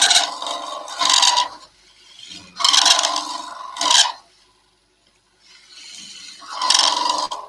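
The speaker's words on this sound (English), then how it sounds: "I'm just using my spindle gouge as a drill." A spindle gouge bores into spinning wood on a lathe, giving three rough, rasping scrapes of a second or so each, separated by short pauses, close and fairly loud with no talk.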